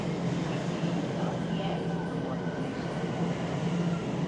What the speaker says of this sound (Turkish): Evet, metrodayız.